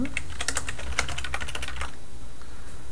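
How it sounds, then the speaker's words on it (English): Quick bursts of clicking computer keyboard keystrokes, close and fairly quiet, during a stream of the game Marvel Heroes, stopping after about two seconds to leave faint room noise. "Oops, typing in the wrong window."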